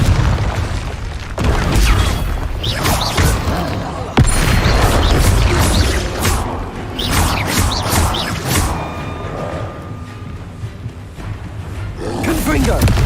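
Confringo blasting spells in the Hogwarts Legacy video game set off repeated loud booming explosions and crashes amid dense combat noise, with a voice shouting spell names throughout.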